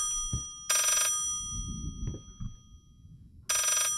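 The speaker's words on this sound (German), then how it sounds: "Da ist ein Telefon in der Wand" A telephone set inside a wall rings in the horror video game Layers of Fear, harsh electric bursts of ringing at a steady interval over a low rumbling, creaking ambience.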